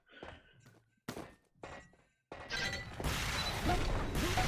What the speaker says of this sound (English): Oh, great rocket. Second rocket!